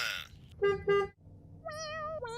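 A taxi's car horn sounds two short toots, then a longer honk, heard near in an outdoor street setting with no clear speech over it.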